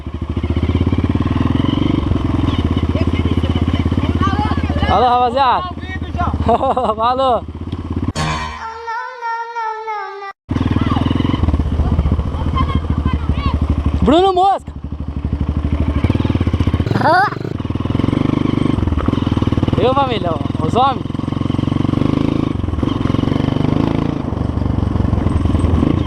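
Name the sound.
Honda CRF 230 dirt bike engine running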